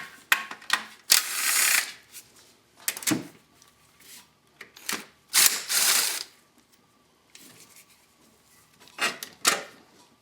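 Ratchet wrench working three 13mm bolts and nuts loose on a Chevy Cavalier engine during valve cover gasket work, heard as bursts of close, rapid clicking separated by short pauses and quieter metallic handling.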